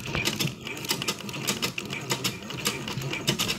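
A treadle sewing machine pedaled by foot gives a quick rattling mechanical clatter with repeated rhythmic ticks, fairly faint and close.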